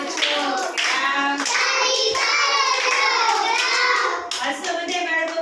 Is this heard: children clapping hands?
yes